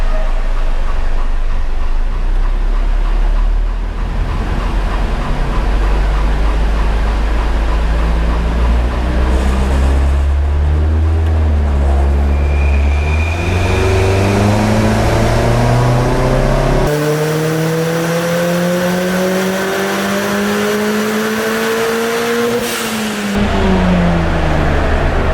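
A Ford Fiesta ST180 fitted with a hybrid turbo runs hard on a dyno, its engine revving steadily upward through the gears in long loud pulls, with a brief drop between shifts and a final climb before cutting off.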